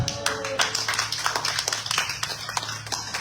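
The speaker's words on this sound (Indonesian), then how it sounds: "Tepuk tangan buat Yesus." A church congregation claps together during a worship service, a dense run of hand claps with a steady rhythmic pulse over a low hum, with faint voices mixed in.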